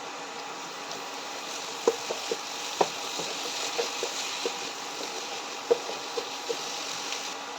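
Spices, including asafoetida and fenugreek powder, are sautéed for watermelon rind pickle: a soft, low sizzle runs underneath while a spoon scrapes and clicks against the pan in scattered, irregular taps.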